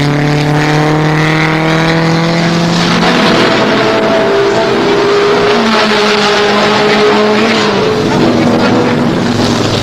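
Race cars at the 1970 Sebring 12 Hours roar past loudly, their engines climbing and falling in pitch as they accelerate and pass close by in overlapping waves.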